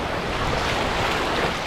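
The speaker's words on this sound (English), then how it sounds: "we just learned that this river has some rapids in it." Rushing river rapids on a Canadian wilderness canoe route, a loud, continuous broadband roar of churning water with no breaks, heard up close.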